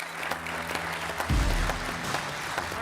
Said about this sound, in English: Give a round of applause for Coach.